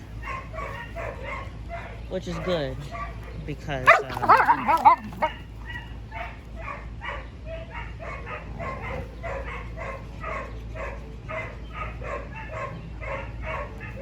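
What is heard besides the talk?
Dogo Argentino dogs barking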